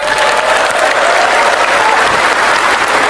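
A crowd applauds at an outdoor political speech, dense steady clapping filling all three seconds at an even, moderate loudness without a break.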